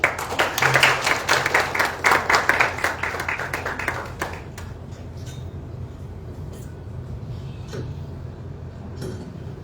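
Audience claps at the Grand Théâtre National in Dakar, Senegal, during a celebration event; the clapping is strong and somewhat rhythmic at first, tapers off within a few seconds, and gives way to quiet hall ambience with scattered claps.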